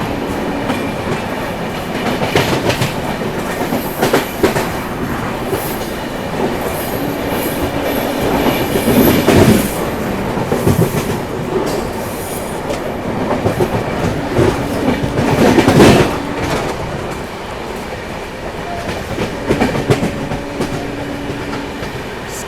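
The Darbhanga Bihar Sampark Kranti passenger train runs at speed, with a steady loud rumble and rattle and rhythmic clickety-clack from the wheels that swells at intervals through the ride.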